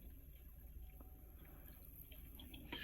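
Water circulates in an aquarium frag tank, a quiet continuous trickle and gurgle from a low-powered pump with occasional faint drips, soft and close, no voices.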